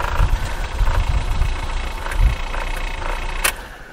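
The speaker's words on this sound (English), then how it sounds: "Choke off, she idles and putters all day." A 1978 British Leyland Clubman Estate engine idles with the choke off, a steady, close, even putter that holds throughout with a brief sharp click near the end.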